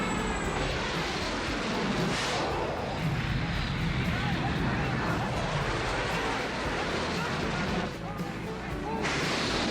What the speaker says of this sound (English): Obviously this is for clearance for when planes are coming in.